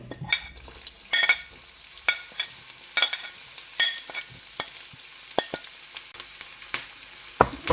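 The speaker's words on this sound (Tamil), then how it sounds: "நான் இந்த மீன் பொரிச்ச எண்ணெய்க்கு இந்த உள்ளியையும் கருவேப்பமிலையையும் பொரிச்சு எடுக்க போகிறேன்" Garlic and curry leaves frying in oil left over from frying fish, close and steady, with sharp clacks of stirring against the pan at irregular intervals and no voices.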